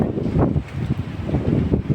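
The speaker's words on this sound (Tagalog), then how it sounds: "Oh, lakas ng hangin guys" Strong typhoon wind in Taiwan roars and buffets the microphone in uneven gusts, with no voices.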